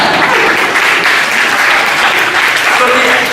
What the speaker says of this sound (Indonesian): Mau tepuk tangan dulu, silakan.